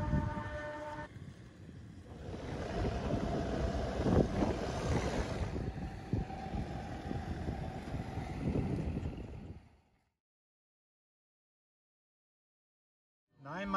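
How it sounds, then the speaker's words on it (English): An Uprise wind turbine spins in a steady 9 mph wind in San Diego, giving a continuous broadband whooshing rumble with wind buffeting on the microphone for about ten seconds before cutting to silence. "just holding 9 miles an hour of wind, and there's the turbine cruising"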